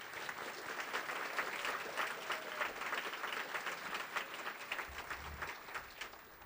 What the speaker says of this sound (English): would you please give them a round of applause for